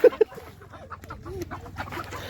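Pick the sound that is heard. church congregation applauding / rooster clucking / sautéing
rooster clucking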